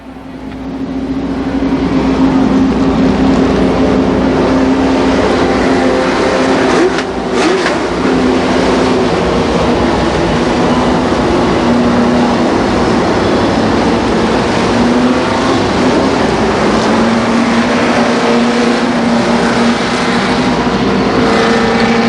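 An Oldsmobile pace car leading Winston Racing Series late model race cars around a speedway, a loud continuous roar of many engines droning and revving together, steady throughout.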